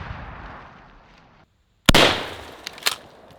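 A 12 gauge shotgun fires into a Halloween pumpkin: one sudden, loud, close blast after a short hush, trailing off into a ringing decay with a couple of smaller pops and knocks.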